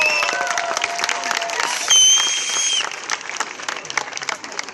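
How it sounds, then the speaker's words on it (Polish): Enthusiastic crowd applause and cheering for a youth dance group at a Catholic youth worship gathering, lively clapping with shrill whistles rising above it, loud and close, easing off toward the end. "Brawa dla niego i dla grupy całej!"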